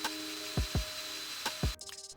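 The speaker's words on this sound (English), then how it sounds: "These were rough cut using drill and jigsaw." A jigsaw cuts through wooden PC case panels under a constant motor whine, with several sharp knocks and thumps as the blade and workpiece shift.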